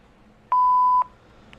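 A single voicemail beep sounds as one steady, clean tone about half a second long, clear and close against near silence.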